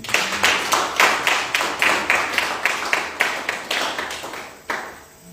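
A church congregation claps to acclaim the Lord, a quick rhythmic run of about twenty hand claps, close and lively, fading out with one final clap.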